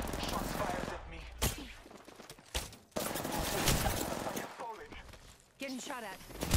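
Rapid automatic gunfire in an Apex Legends Arenas match, dense bursts of shots heard up close in near-continuous volleys, with brief gaps and voices talking over the action.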